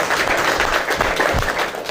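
Crowd applause at an RCM business seminar, a dense wash of clapping hands that stays steady and fairly loud for the whole stretch, with no voices over it.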